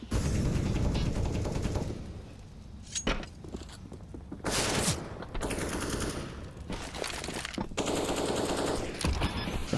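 Counter-Strike gunfire during a professional match, with loud rapid automatic bursts and single shots, separated by brief pauses and mechanical clatter.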